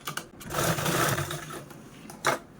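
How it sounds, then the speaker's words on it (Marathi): A home sewing machine stitches fabric piping from a trouser offcut in a close, busy, whirring run that stops and restarts in short bursts. "आता हा जो थोडासा पार्ट राहिलेला आहे तो आपण स्टिच करूया"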